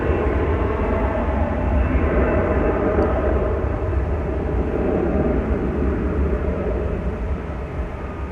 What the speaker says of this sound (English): you are seeing there American Flight 711. It's off to Ontario, California.